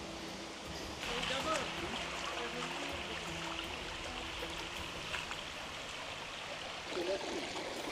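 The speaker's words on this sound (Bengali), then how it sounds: "দূর থেকে কিন্তু অনেক শব্দ শোনা যাচ্ছে তার মানে হচ্ছে আমরা ঝর্নার যে মূল ঝর্ণা সেটা কিন্তু খুব কাছাকাছি চলে আসছি" Steady rushing water of Khoiyachora waterfall in Bangladesh, heard from a distance along a rocky stream trail, a continuous broad roar with faint scattered voices and footsteps.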